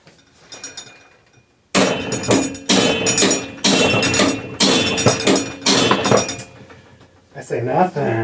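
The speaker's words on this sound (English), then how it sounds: "let's give this one more tap with a big hammer." A big hammer strikes a stuck bicycle stem, about six sharp, loud metallic blows in an uneven rhythm, close up.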